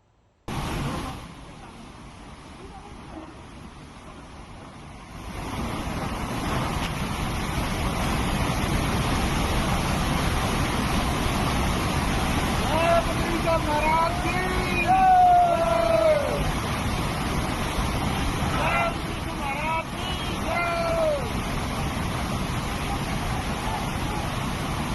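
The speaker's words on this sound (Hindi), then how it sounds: "लहरों की आवाज और शोर ये बताने के लिए काफी है कि कितने तेज आवेग में ये नाला बह रहा था" A flooded stream (nala) near Badrinath surges with a loud, continuous roar of rushing waves after a quieter opening, and wavering tonal wails are heard over the water noise.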